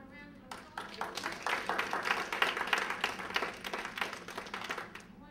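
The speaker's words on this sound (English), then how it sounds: "Let's give him a round of applause." An audience claps after a lecture, a soft, moderately distant patter of applause that swells and fades over a few seconds, with some talking mixed in.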